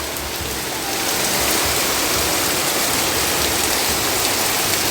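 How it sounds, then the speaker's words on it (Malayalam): Heavy monsoon rain pours steadily onto a home courtyard, a loud, dense, unbroken hiss that swells slightly after the first second and holds without pause. "നല്ല മഴ."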